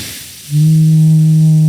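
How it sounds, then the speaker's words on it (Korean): Semi-occluded vocal exercise with puffed cheeks while blowing air: after a brief breathy onset, a steady, loud sustained hum with strong harmonics holds evenly to the end, with no talking. "볼 빵빵해지게 만들어서 바람 불면서 소리 내주기"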